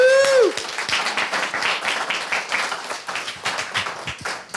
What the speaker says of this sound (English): All right, so big round of applause.